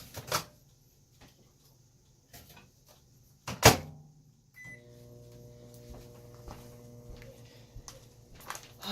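A kitchen microwave oven is shut with a few clunks and a loud door slam, then starts up with a beep, settling into a steady low hum with faint rattles.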